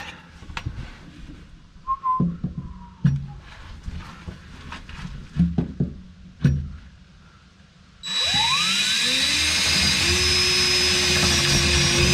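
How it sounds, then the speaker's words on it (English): A power drill bores a hole in metal for a truck camper generator mount on an Arctic Fox 990. Scattered knocks and clatter come first, then the drill spins up loud and steady, with a whining pitch that rises and settles. "let's get this second hole drilled for this side"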